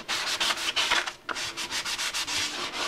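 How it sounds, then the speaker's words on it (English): Hand sanding of a Yamaha FZR motorcycle part using 220 grit paper on a soft block, close and loud, with steady rhythmic back-and-forth scraping strokes and a brief pause midway. "All the sanding done with the soft block"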